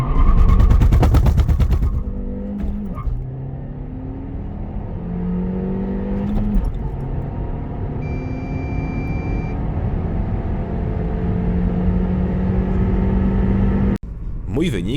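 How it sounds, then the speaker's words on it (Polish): A Kia Ceed 1.5 T-GDI with a six-speed manual launching hard, loud engine roar with repeated rising sweeps and stuttering bursts from violent wheel hop, ending in an abrupt cut. "jak słyszeliście, auto cierpi na ogromny wheel hop, czyli skaczące koła podczas gubienia trakcji"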